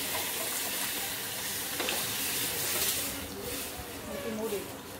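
Paruppu urundai kuzhambu gravy poured into a hot pan of sautéed onion and tomato, a steady, fairly quiet sizzling hiss that swells briefly and then settles.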